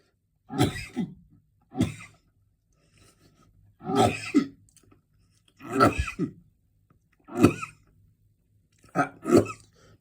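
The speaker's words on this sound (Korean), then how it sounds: "오늘도 기침이 나오네요." A series of six short coughs and throat-clearing bursts, spaced a second or two apart, close to the listener, with quiet between them.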